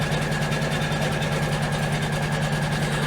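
A sewing machine runs continuously while stitching a quilting design on a fold-over top bag, giving a steady, close mechanical hum with a fast even rhythm and no talking.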